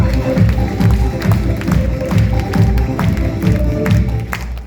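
An audience claps and cheers in a steady, dense burst of applause at a gathering, close and lively, with some voices mixed in.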